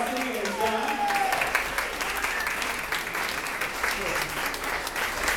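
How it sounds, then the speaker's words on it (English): At a benefit event, the audience gives a round of applause, steady moderate clapping throughout with people talking underneath it. "Give them a big round of applause for generosity and time."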